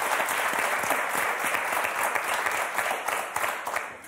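Studio audience applauding on a French game show, a full, steady wash of clapping that holds for about four seconds before tapering slightly at the end.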